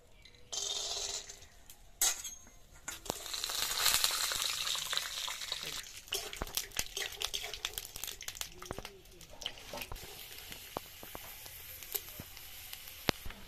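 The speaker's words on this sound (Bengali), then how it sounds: "বাদামটা ভেজে নিই" Peanuts frying in white oil in a wok crackle and hiss at close range, with a louder burst of sizzle early on, then scattered pops, clicks and light clinks of stirring.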